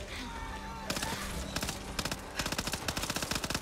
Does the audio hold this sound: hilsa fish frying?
no